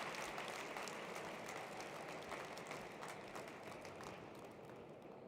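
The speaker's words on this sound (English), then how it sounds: "Please give them a round of applause for the amazing work that they're doing in Palestine." Steady applause from a crowd, a dense wash of clapping that holds evenly and tapers slightly toward the end, with no voices.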